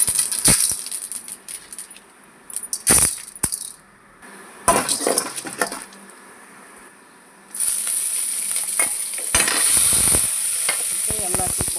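Ginger, garlic, coconut and green chillies sauté in hot oil for chutney, with mustard seeds, urad dal and chana dal on hand. A steady hiss of frying runs throughout, broken by sharp stirring scrapes and clatters, swelling louder near the end, with no talk.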